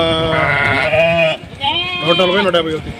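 Sheep bleat loudly and close by, two long wavering calls one after the other, with a voice briefly mixed in.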